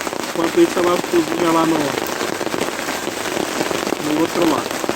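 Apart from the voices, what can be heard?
rain falling on a campsite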